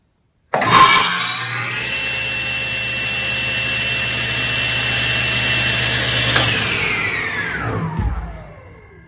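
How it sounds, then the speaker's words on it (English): A SawStop professional cabinet saw starts up abruptly, runs with a loud, steady whirring whine for several seconds, then is switched off and winds down with a falling pitch before going quiet. "All I do is I pull this paddle and it's going to turn on."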